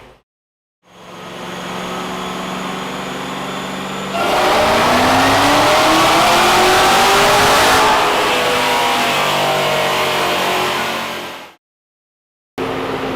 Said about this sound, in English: we're gonna put it on the dyno, do some logging, send it over to the tuner, which is Derek Dunbar